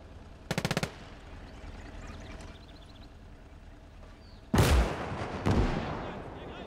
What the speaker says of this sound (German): Oh, da ist irgendwo ein Maxim.